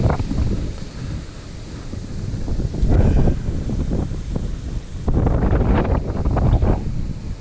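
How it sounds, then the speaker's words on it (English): Strong wind gusts buffet the microphone outdoors beside a roadside ditch, a loud continuous roar that swells in heavy bursts around the third and fifth to seventh seconds. "The wind's blowing so darn hard."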